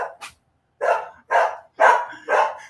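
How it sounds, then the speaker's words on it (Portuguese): Dog in a yard barks five times in quick succession, loud and close, with no talking. "Vocês estão ouvindo bastante latido de cachorro aí?"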